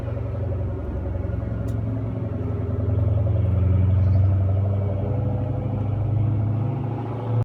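A 2003 Ford Mustang Mach 1 V8 rumbles on the road, a loud, steady low-pitched drone that swells briefly and holds close throughout with no talking.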